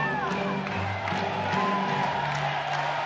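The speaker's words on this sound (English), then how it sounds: "There you hear the crowd here at the QUEZON Convention Center really trying to distract Mabulak on his free throws" Arena crowd at the Quezon Convention Center during an MPBL 2023 basketball game, jeering and hollering at a Nueva Ecija player's free throw; a steady, dense roar of voices with whoops and shouts, partly under a commentator's talk.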